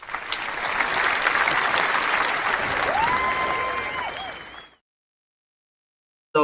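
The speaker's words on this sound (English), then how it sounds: "I think that does deserve a round of applause." A crowd gives a round of applause, a dense steady patter of clapping that carries for several seconds, then fades out and falls silent.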